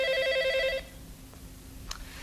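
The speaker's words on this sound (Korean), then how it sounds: "때마침 이 곤란한 상황을 구원해줄 전화가 울리는데" A telephone bell rings loudly and close by in a repeating trill for under a second, then cuts off, leaving quiet room tone with a couple of faint knocks.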